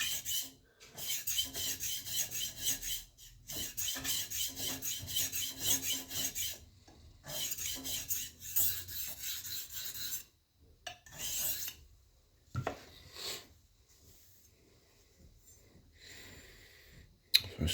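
A chef's knife is ground and sharpened to remove grinding marks, repeated raspy scraping strokes in bursts with short pauses between them, fairly close and alone.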